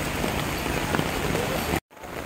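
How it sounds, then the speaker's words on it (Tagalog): Heavy typhoon rain pours down in central Hong Kong, a dense, steady roar of drops hitting surfaces, loud and continuous until it cuts off abruptly near the end, then resumes more faintly. "Grabe yung ulan."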